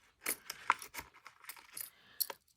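Small metal jewelry charms with sticky backs are handled and jostled, giving a run of light, bright clinks and jangles, close and quiet with short gaps between them.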